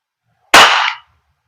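An Umarex by GHK Glock 17 Gen 5 MOS gas blowback airsoft pistol fires a single sharp, loud crack with a brief hissing tail, close by, in otherwise silent surroundings.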